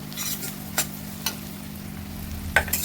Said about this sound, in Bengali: রসুনটা কিছুক্ষণ নেড়ে চেড়ে নেব।